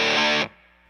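A distorted electric guitar chord rings through a Mesa Boogie DC-5 amp with reverb, then cuts off abruptly after half a second, leaving a faint reverb tail and amp hum.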